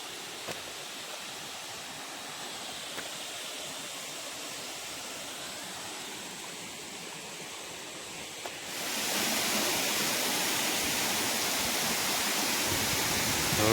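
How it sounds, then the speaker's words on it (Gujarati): Water rushes steadily down from a mountain as a continuous broadband roar, growing noticeably louder and fuller partway through and staying constant to the end, with no voices. "જોજો મિત્રો આપણા પહાડમાંથી પાણી આવે"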